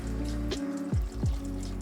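Milk poured into a pot of Japanese chicken cream stew with potatoes and carrots, giving short gurgling splashes and a couple of distinct glugs over a steady hum of the kitchen.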